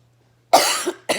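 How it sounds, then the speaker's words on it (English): Two harsh coughs close to the microphone, the first longer and raspy, the second short, with silence before them. "I have a wicked cough."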